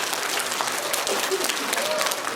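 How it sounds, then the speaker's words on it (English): Applause fills a school assembly, a steady wash of many hands clapping with a faint murmur of voices mixed in, continuous and fairly close throughout the short stretch. "let's give them a big round of applause"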